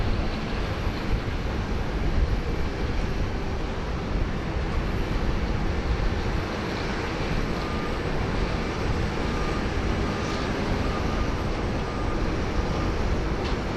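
A Qantas plane bound for Johannesburg departs Sydney Airport in heavy rain, a distant jet roar half buried in a dense, steady wash of rainfall.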